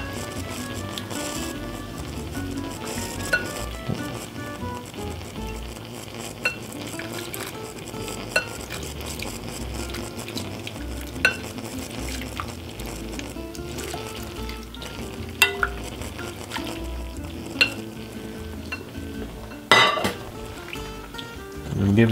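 Warm cream being stirred into a mixture for a no-bake flourless cake, giving a continuous scraping and swishing of a utensil in a bowl with occasional clinks against the side, close and steady throughout.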